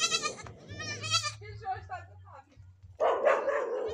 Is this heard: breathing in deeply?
no